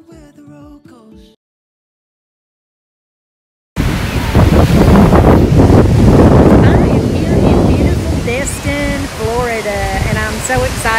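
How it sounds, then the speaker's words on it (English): Strong wind buffets the microphone over crashing surf at a Florida beach, a loud continuous roar that follows a brief quiet passage and a pause of silence. "It's my favorite beach in Florida. The water's always beautiful"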